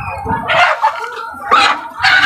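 Backyard chickens cluck as an asil rooster crows close by, several loud, rising bursts spaced about a second apart with faint murmuring between them.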